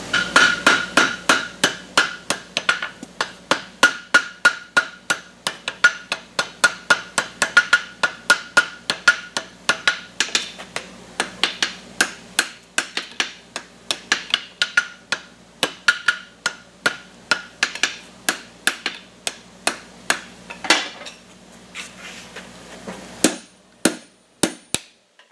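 Hot steel gooseneck of 5/8 inch bolt jaw tongs being hammered on an anvil horn: a long run of steady, ringing hammer blows in quick rhythm, close and loud, slowing and thinning out toward the end.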